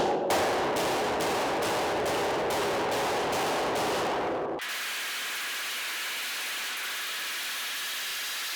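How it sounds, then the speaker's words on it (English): Hammer peening sheet metal over a dolly on a custom door of a 1940 Ford-inspired hardtop coupe: about eight sharp, evenly spaced metallic blows ring out close by, then stop, leaving a steady background hiss. "You hear the difference there? The sharp peening sound."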